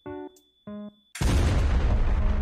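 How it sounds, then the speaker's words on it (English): Explosion in a Roblox shooter game styled after Valorant: two short tonal beeps, then a sudden loud boom that swells into a sustained rumbling roar lasting over a second, close and dominant, with no speech. "That explosion sounds kind of creepy,"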